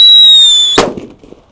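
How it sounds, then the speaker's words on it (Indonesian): A Whistling King Thunder firecracker in a hole in the ground gives a loud, shrill, steady whistle that ends in one sharp bang, followed by a short scatter of fading debris sounds. "Oke, sudah menyala di dalam lubang tanah guys."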